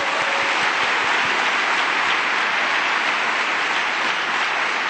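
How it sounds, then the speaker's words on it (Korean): A church congregation bursts into loud, sustained applause, a dense and even roar of many hands clapping close and full for several seconds with no talk. "박수를 상당히 크게 쳐주셨습니다"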